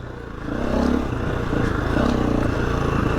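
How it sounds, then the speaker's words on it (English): A motorcycle engine revs loudly twice in quick succession, close by, with a mechanical rattle between the bursts, while doing wheelies. "So a little bit of revs"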